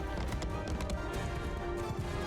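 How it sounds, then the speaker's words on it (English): Horse hooves clip-clopping at a run in the medieval battle game Mount & Blade II: Bannerlord, a dense steady patter of hoofbeats over continuous battle din with no clear single stumble. "Horse tripped on a log or something."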